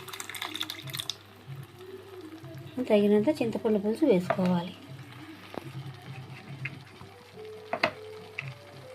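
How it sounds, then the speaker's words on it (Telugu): Tamarind extract is poured into simmering village-style fish curry gravy that has turned golden. A brief, close liquid pour and bubbling sit under a person talking. "ఈ గ్రేవీలో తగినంత చింతపండు పులుసు వేసుకోవాలి."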